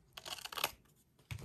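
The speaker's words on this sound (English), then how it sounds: "So I'm just going to take my scissors," Scissors snip through paper for a junk journal signature, a quick run of crisp close cuts followed by a short pause and one more snip near the end.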